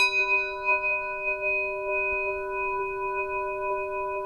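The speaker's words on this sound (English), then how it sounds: "I also have a Sun Trigon that I like to use." A Sun trigon, an early Martin Blasey-made instrument, rings with a steady sustained shimmering tone, its bright overtones holding evenly throughout with faint low rumble beneath and no talking.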